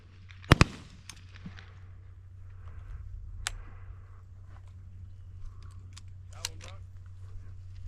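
Shotgun blasts at a field dove hunt in Lytle, Texas: a sharp close pair of shots near the start, then two more reports spaced apart, over steady outdoor background with voices talking.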